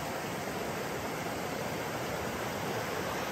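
A river rushes over a rocky riverbed at a rainy campsite, a steady, dense wash of water noise that holds evenly from start to finish with no voices.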